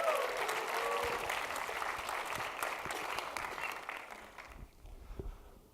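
Audience at a tech talk clapping steadily, a dense sustained patter of many hands that gradually thins and fades out near the end, with a few isolated claps left.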